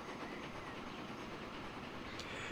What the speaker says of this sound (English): what I really enjoy about this game mostly is actually riding the trains. So let's ride the train.